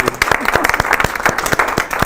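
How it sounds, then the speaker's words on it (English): A workshop group in Paris applauds, with fairly close, distinct claps in a quick uneven rhythm that holds steady across the short span. "Give an applause to the blue people for being out first"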